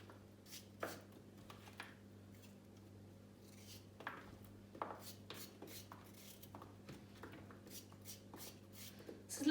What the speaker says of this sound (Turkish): Yani küp küp de doğrayabilirsiniz.